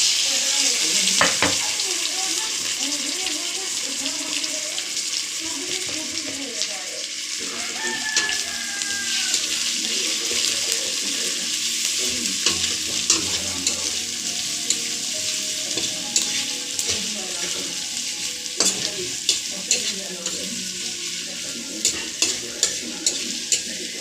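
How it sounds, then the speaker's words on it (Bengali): Chopped onions fry in a pan over garlic paste, giving a continuous close sizzle broken by repeated scraping and clinking stirs of a spatula throughout. "পেঁয়াজ দিয়ে দেবো এবার।"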